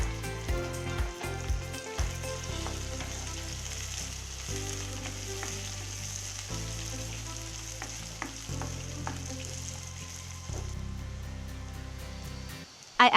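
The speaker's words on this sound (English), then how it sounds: "Next I add 2 long dried red chilies, cut into halves. I sauté them for 10 seconds." Long dried red chilies cut in halves sautéing in hot ghee with onions for a chickpea curry, a steady close sizzle with occasional stirring clicks, continuous with music behind, no talk.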